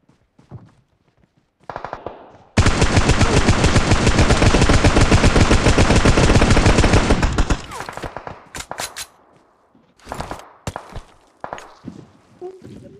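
Sustained rapid automatic gunfire from PUBG Mobile rattles loudly for about five seconds, then gives way to scattered single shots and short bursts, with faint footsteps and thuds between them.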